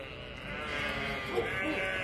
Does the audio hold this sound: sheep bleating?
yes